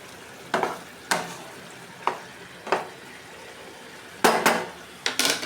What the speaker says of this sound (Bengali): এই যে পুঁটি মাছ ভাজা হচ্ছে